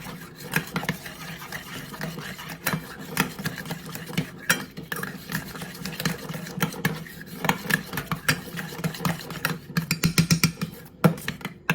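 A utensil stirs burger sauce mixed with pickle juice by hand in a bowl, making soft repeated scraping and clinking sounds in an irregular rhythm, fairly close but quiet.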